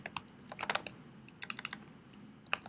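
Keys on a computer keyboard clatter nearby in short irregular clusters of taps, with pauses between bursts and a faint room hum underneath.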